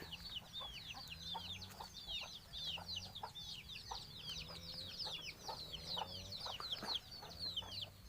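Several chickens in a coop cluck and chatter continuously, with busy overlapping calls from a flock close by over a low steady background hum.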